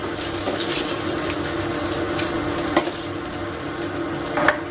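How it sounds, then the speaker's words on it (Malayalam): Paneer frying in a pan of oil, a steady close sizzle with crackling hiss and a few sharper pops and spits near the middle and end, without any talk. "ഇപ്പോൾ അവിടെ പനീരൊക്കെ ഫ്രൈ ആയിട്ടുണ്ട്."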